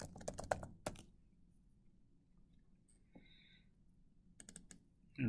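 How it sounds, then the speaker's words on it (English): Typing on a computer keyboard comes in two short bursts of quick, close clicks separated by a quiet pause with a faint mouse click, the keystrokes crisp and fairly soft. "I'll type in dollar sign."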